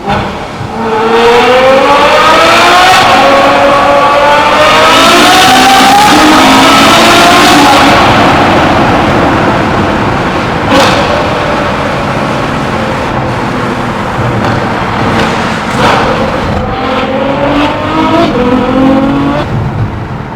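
A Ferrari F12 V12 engine revs hard and loud, pitch climbing and falling through repeated surges, with a steady roaring drone between the pulls.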